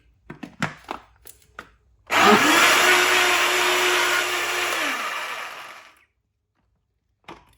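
A kitchen blender blends apricots in water, whirring loudly and steadily for about four seconds before spinning down, preceded by a few soft knocks and clicks.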